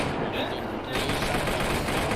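Automatic gunfire in the military shooter Arma 3, a steady dense rattle of shots throughout, with voices faintly mixed in.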